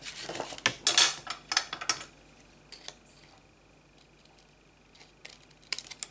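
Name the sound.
cutting off excess material with a blade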